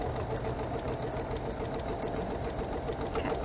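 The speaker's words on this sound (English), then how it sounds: "I'm sewing down the other side of that line." A sewing machine stitches through quilt fabric with a steady, rapid mechanical chatter, running continuously and close up with no talking.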